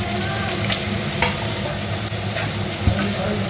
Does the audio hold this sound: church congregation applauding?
no